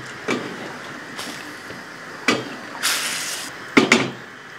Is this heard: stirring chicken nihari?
yes